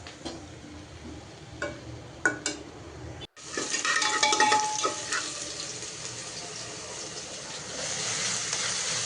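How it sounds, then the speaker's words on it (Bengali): Cabbage bhaji being stir-fried in a pan, scraping stirs and clinks against the pan with a soft background sizzle, interrupted by a brief cut before the steadier cooking noise resumes. "এখন এটা আমি ভাজা ভাজা করে নিব ভাজিটা।"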